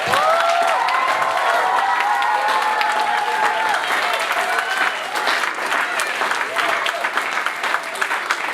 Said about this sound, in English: Can we give Miss Reed a huge round of applause